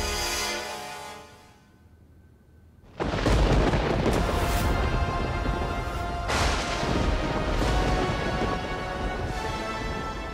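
Heavy thunder in a storm with strong wind: after a quieter wind-filled stretch, a sudden loud crash erupts and keeps rumbling and roaring, then swells again.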